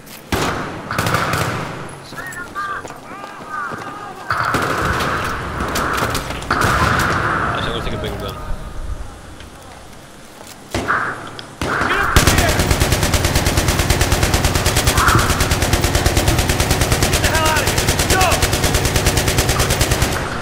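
Automatic gunfire in Battlefield 3 co-op: scattered close bursts of rapid shots early, then a long, loud, unbroken stream of machine-gun fire, with players talking over parts of it.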